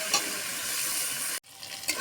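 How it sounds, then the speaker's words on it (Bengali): Taro stolons stir-fried with prawns and turmeric crackle and sizzle steadily in a pan, close and fairly loud, with a brief pause before the frying noise resumes; no talk. "ভালো করে এটাকে ভেজে নেব।"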